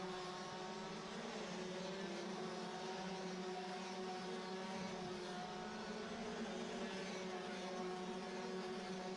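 DD2 racing karts at a BNL meeting sweep through the fast right-hand turn 1, a steady, continuous engine drone with layered tonal whine, heard at a distance with no talk.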